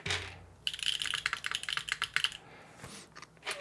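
Keys on a Neo60 Core keyboard fitted with HMX Retro J tactile switches clack in a quick, close burst of typing, then pause before a few scattered final presses.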